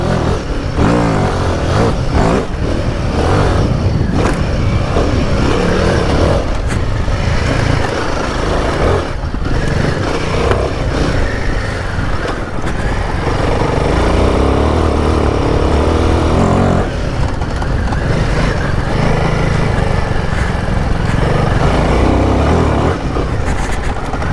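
A Royal Enfield Himalayan 450 motorcycle climbs a slippery uphill trail at an expert off-road festival in the UK, its engine note loud and continuous throughout, rising and falling with throttle changes over wind and wheel noise.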